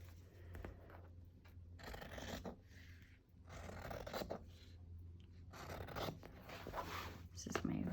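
Fabric is cut into strips for ties with scissors, giving short close snipping and scraping bursts separated by pauses, under a quiet room hum.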